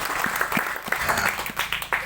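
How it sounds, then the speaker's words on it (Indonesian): Church congregation applauding during a sermon, a full round of many hands clapping with some sharper individual claps standing out, fairly close and steady. "Beri tepuk tangan terbaik dulu buat Tuhan Yesus Kristus."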